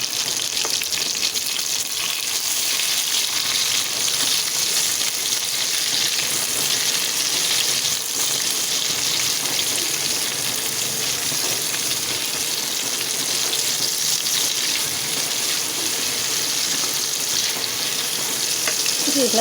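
Tomatoes sizzle steadily in a pan for a home-cooked meat dish, a loud, continuous frying hiss with light stirring noises and no talking throughout.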